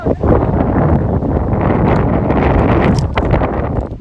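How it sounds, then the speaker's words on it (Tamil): Steady wind buffets an outdoor cricket ground during a UPL final, roaring across the microphone as a continuous broadband rush with gusty swells and no clear talk. "காத்து அடிக்குது"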